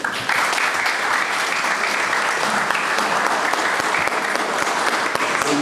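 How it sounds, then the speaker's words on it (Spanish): Sustained, dense applause from a university lecture audience fills the room, steady and fairly loud throughout with no voices standing out. "pido un fuerte aplauso para el doctor"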